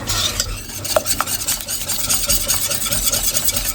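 A béchamel sauce is stirred continuously in a pan for a jambon-fromage puff pastry, the whisk scraping and clinking against the metal in a steady rhythm over a soft background hiss, close and fairly loud.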